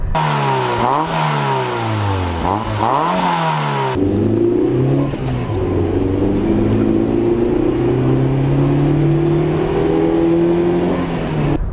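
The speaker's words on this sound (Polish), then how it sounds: "No i silnik jest też dosyć głośny" A Nissan 100NX four-cylinder engine drones loudly at speed, its pitch climbing through gear changes and then holding a steady, buzzy growl.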